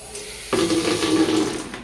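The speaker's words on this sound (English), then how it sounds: "Got some flow out there, boys." A low hiss of trapped air suddenly bursts into a forceful gush of water spurting from a newly installed kitchen sink pipe, splashing loudly and continuously nearby.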